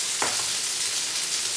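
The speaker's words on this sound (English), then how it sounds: "I'm frying a little too fast." Potato pancakes sizzle fast in a hot frying pan, a steady crackling hiss filling the short stretch without any voices.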